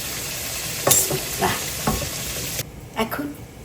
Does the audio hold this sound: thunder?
no